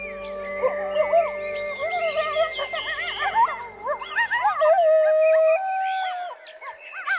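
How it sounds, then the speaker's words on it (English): Coyotes howling in a montane valley of the Rocky Mountains, several wavering, yipping howls overlapping in a chorus that rises and falls, fairly close and clear, ending in a last drawn-out howl. "the howl of the coyote echoes through the montane valleys."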